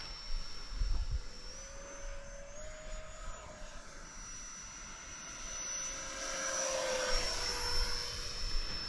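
Small radio-controlled MB-339 model jet plane flying past with a steady whine whose pitch shifts as it banks, growing slightly louder toward the end, with faint wind buffeting.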